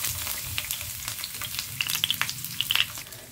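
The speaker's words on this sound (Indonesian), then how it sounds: "Tumis dulu ya bawang merah dan putihnya." Shallots and garlic sauté in a pan for a simple chayote stir-fry, giving a steady, close sizzle with scattered crackles and light stirring taps, no voices.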